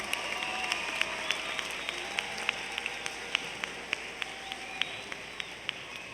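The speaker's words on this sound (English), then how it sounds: "Final round of applause for all of our wonderful graduates." Steady audience applause at an 8th grade moving-on ceremony honoring graduates, a dense wash of many hands clapping with a few sharper individual claps standing out throughout.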